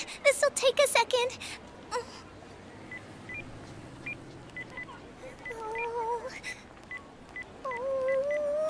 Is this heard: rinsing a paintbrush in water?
no